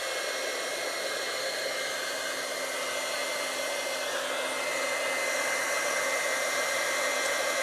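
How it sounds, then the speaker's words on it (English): A handheld heat tool for embossing runs continuously in a steady, close-up whirring blow of fan and hot air, with a constant hum and no talking. "So now I've got my heat tool."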